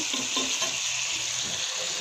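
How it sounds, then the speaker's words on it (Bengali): Dhela fish fry in hot oil in a pan, giving a steady, close, dense sizzle throughout with no talking. "আমি ঢেলা মাছ ভাজতেছি"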